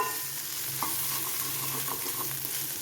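A beans and carrot stir-fry with crushed curry leaves is stirred in a hot pan, producing a continuous close sizzle with a few soft scraping strokes of the spoon and no talk.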